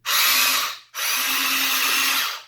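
A loud, high-pitched electric motor whine from a Huina 1592 RC excavator driving, running in two close bursts with a brief break between them.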